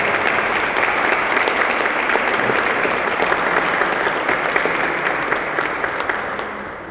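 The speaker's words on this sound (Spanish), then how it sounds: "les pido un aplauso, por favor, para el comisionado" Audience at the opening of a fair applauds a commissioner with a loud, sustained, dense wash of clapping that holds steady before easing slightly toward the end.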